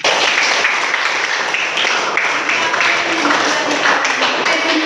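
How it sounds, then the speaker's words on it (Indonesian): Students applauding together in a classroom after group presentations, a dense, loud burst of clapping with scattered taps, sustained throughout. "Pokoknya kita beri tepuk tangan kepada kita semuanya."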